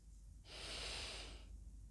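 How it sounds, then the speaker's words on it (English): Nasal breathing at a natural, relaxed pace after a comfortable breath hold: a single soft airy breath swells and fades over about a second, close and quiet, with no talking. "take a couple of breaths in and out through the nose at your natural pace"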